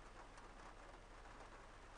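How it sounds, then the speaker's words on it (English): Steady video game rain hiss in OMSI 2, soft and continuous, with no voices over it. "Does look like it's now raining"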